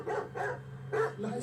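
A dog barks in a TV show, three or four muffled woofs in quick succession over a low steady hum, fairly close.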